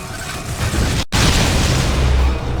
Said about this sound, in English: Now, use your missile!